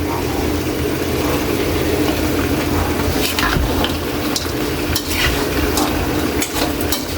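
Butter shrimp with chopped green chili fries loudly in a pan, a constant close sizzle overlaid with repeated scraping stir strokes that grow more frequent toward the end.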